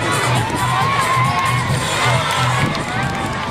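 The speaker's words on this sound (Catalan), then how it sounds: "el nostre rei durant aquests dies al Carnestoltes, un fort aplaudiment per ell" Crowd at a town carnival celebration cheers and shouts for the carnival king, with children's high voices and whoops over a loud, steady roar of clapping and rhythmic drumming underneath.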